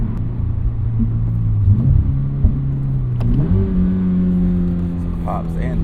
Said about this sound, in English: Some pops and induction noise.